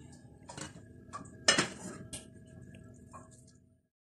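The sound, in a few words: serving mixed vegetable pulao onto a dish with a spoon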